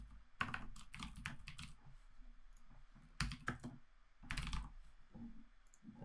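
Someone typing an email on a computer keyboard, bursts of rapid close key clicks separated by short pauses, quiet and clear with no talking.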